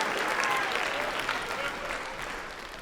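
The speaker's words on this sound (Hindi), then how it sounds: "लेकिन ताली आपने बराबर बजाई" An audience at a Hindi comedy poetry recital (kavi sammelan) claps in a dense, sustained round that fades slightly toward the end, with faint voices mixed in.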